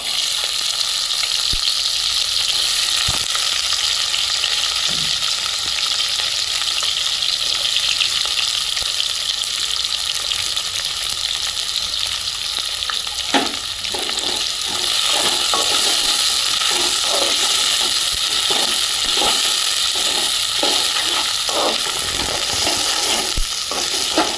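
Steady close sizzle of frying in a pan for Telugu country chicken curry, bay leaf and spices crackling in hot oil, with a broad hiss throughout and intermittent sharp pops and stirring clicks growing busier toward the end.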